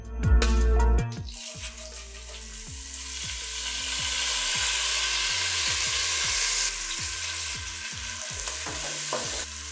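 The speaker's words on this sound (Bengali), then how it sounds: "চালটা হালকা করে ভেজে নিতে হবে চালটা খুব ভেজে নেবেন না আপনারা হালকা করে ভাজবেন" Washed and dried Gobindobhog rice fries in hot oil in a pan, opening with a loud burst, then a steady close sizzle broken by repeated scraping strokes of a spatula.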